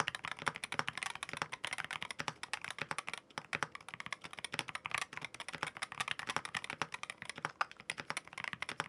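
Rapid typing on an aluminum-case magnetic keyboard, a steady stream of close, crisp keystrokes with irregular rhythm and occasional louder bursts, heard alone without talk.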